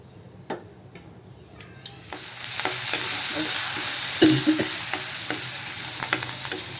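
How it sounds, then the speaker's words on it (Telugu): Curry leaves and a little turmeric dropped into hot oil burst into a loud sizzle after a quieter opening with a few clicks, then hiss steadily with scattered stirring taps. "ఆయిల్లో ఏం చేద్దామంటే ఆ కరివేపాకుని వేసుకొని కొద్దిగా పసుపు వేసేసుకొని"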